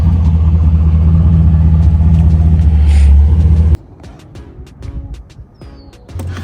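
A Ford Mustang on its way to a smog shop drives with a steady, loud low engine rumble for the first half. It then drops abruptly to a quieter idle, with scattered clicks and knocks.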